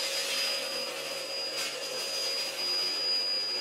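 A neighbour's vacuum cleaner runs steadily through a wall, a constant airy roar with a thin high whine, heard from the next flat with no one speaking.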